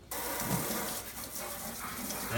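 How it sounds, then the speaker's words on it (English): Water rinses over a vinyl record held flat under running water, a steady close gushing splash that continues throughout. "First, I just give it a good rinse everything off."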